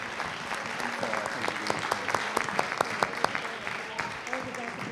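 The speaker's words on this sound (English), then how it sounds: "let's give a round of applause to all of our panelists, and to Cole and to Marcus for their..." At a town hall on youth violence, an indoor audience applauds the panelists with moderate, steady clapping. Individual claps stand out over the rustle, and some voices murmur beneath it.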